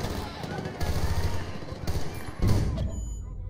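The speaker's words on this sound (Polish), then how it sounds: "Z jakiegoś RPG walą do mnie." Bursts of rapid gunfire and heavy thuds, including RPG fire, rattle through a noisy Battlefield: Bad Company 2 game soundscape, with several loud volleys separated by short pauses.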